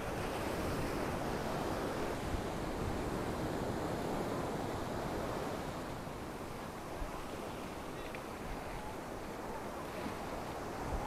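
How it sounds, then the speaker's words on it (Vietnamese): Sea waves roll and break continuously on the beach at Cua Tung in Quang Tri at evening, a steady loud surf wash with wind across the microphone, no voices. "Sóng nước rì rào."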